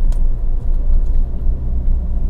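A Toyota Avanza engine with its engine mounted at the rear, carrying three passengers and driver, pulls steadily uphill in third gear through winding turns, giving a continuous low rumble close by with no talking.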